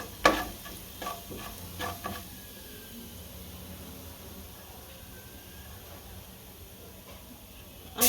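Asafoetida and cumin stirred in hot oil in a pan give a soft, steady sizzle, with a few sharp scraping stirs near the start and a clatter at the very end.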